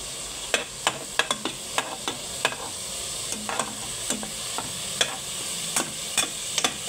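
Garlic and onion sauté in a pan with soft frying sizzle under repeated sharp scrapes and clinks of a utensil stirring, close and steady, no talking.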